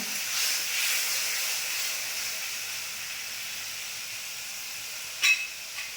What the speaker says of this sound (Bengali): যে মশলাটা বেটে নিলাম ওই মশলাটা দিয়ে দিলাম বন্ধুরা একটুখানি জল দিলাম দিয়ে মশলাটা কষবো